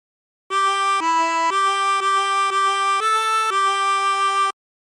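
A phrase of 'The Yellow Rose of Texas' played on a 16-hole tremolo harmonica: eight steady, reedy notes shifting pitch, close and clear with no voices.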